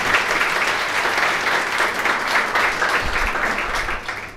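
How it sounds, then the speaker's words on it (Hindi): Audience applause fills a book release ceremony hall, a dense, steady wash of many hands clapping at close range that holds loud throughout and eases only slightly at the end. "एक बार और तालियां बनती।"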